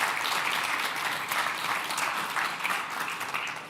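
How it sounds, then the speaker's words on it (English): Sustained applause from a conference audience at a tech event, dense steady clapping filling the whole stretch at moderate, somewhat distant level, with no voices standing out. "And here's a round of applause to you."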